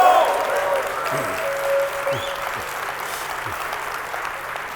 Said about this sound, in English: Let's give these people a round of applause.